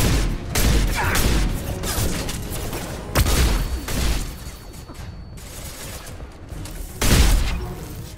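A gunfight in the video game Mass Effect 2 brings repeated booming blasts and crashing bursts, loud and close, with a flashbang explosion among them and a strong burst near the end.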